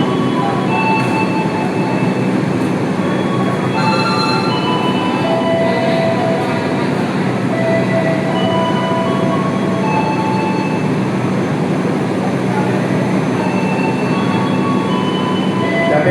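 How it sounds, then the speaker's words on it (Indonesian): The Sangkuriang passenger train departs for Ketapang Banyuwangi, a loud, steady rumble of wheels and carriages with faint squeals and clatter, heard close and unbroken. "keberangkatan kereta api Sangkuriang tujuan Ketapang Banyuwangi"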